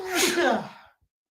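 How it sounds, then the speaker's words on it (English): A single close, loud human sneeze, a sharp breathy burst that fades out within a second. "I need to get my mute button here so I don't disgust y'all with my sneezes."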